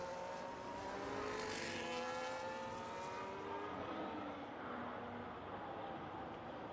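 A Ferrari Formula 1 car in an F1 racing game at Miami, its high-revving engine whining loud and steady with pitch sweeping as it passes, without talk.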